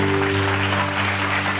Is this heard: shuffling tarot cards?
no